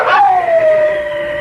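A dog howls in a radio ad, one long wailing note that starts loud with a sharp onset and slowly slides down in pitch as it holds, with nothing else heard.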